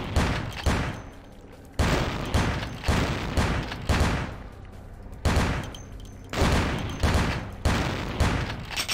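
Gunshots from a firearm in Vampire: The Masquerade – Bloodlines fire in a steady sequence of about nine loud, close reports, each followed by a short echoing tail.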